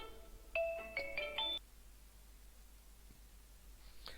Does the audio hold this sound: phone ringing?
yes